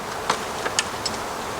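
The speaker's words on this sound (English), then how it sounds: "there's quite a few bees coming in" Bees buzzing around a swarm trap, a steady insect drone close by with a few brief flyby accents and clicks over a short stretch.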